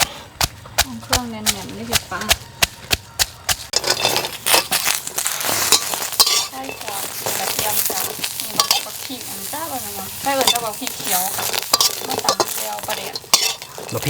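Lemongrass, shallots and garlic stir-fried in a pan for a Thai Mekong fish mok, with a steady close sizzle and a run of sharp utensil clicks against the pan at the start, while someone talks in Thai throughout.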